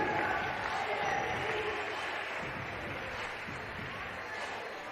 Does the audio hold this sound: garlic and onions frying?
no